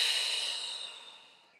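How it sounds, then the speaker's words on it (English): One long, airy exhale during a Pilates spine rotation, close and breathy, fading gradually to quiet over a second and a half. "just take 2, 3, maybe a nice long breath here"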